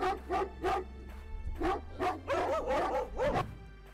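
A dog barks at a burglar who has entered the house, a series of close, loud bow-wow barks in uneven bursts with short gaps, some yipping and whimpering tones, and no talk.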